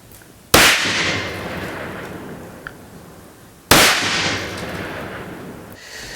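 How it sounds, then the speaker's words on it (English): Two loud, sharp gunshots from an AR rifle with an 18-inch white oak barrel firing 77 grain open tip match ammunition, spaced about three seconds apart, each with a long ringing outdoor decay. "She'll be shooting an 18-inch white oak barreled AR."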